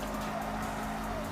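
Car drifting in the mobile racing game Need for Speed No Limits, a steady engine drone with a sustained tire squeal running throughout, loud and continuous with no talk over it.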